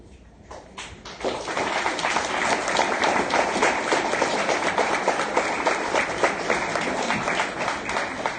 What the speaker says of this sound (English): I just want to give them a round of applause one more time